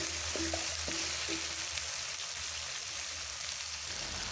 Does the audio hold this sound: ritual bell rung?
no